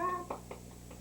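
A cat meows a few short times, fairly faint, over a quiet background hum.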